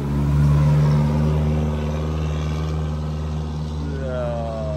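A Mitsubishi Canter truck engine holds a steady, droning rev on an Aceh road trip, loudest early and then settling, with a rising pitch toward the end.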